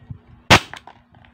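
A WE Trex Hi Capa silver airsoft pistol fires one sharp, loud shot, a brief crack that trails off into quiet room noise.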